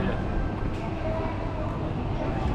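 A subway train at a Tokyo metro station rumbles loudly and continuously, a dense roar of wheels and motors filling the platform with no breaks.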